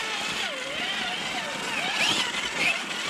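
A vehicle engine in a video game pops a wheelie, its whining drone rising and falling in pitch, steady and fairly close, with voices audible.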